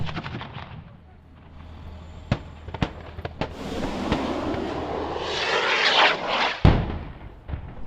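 Rocket strike on suspected ISIS fighter positions around a house: several sharp, distant blasts and cracks over a low rumble, with a broad roaring swell building midway, then a heavy thump near the end.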